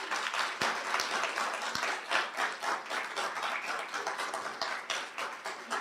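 Students at a nursing hooding and pinning ceremony give a round of applause to faculty members: brisk, continuous clapping from a large seated crowd, with a few sharper individual claps standing out and no talking.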